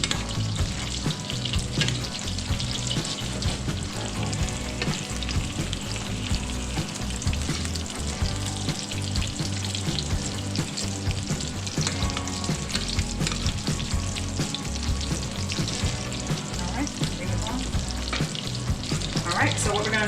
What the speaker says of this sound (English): allow this to cook for 5 minutes on the skin side while tossing in the butter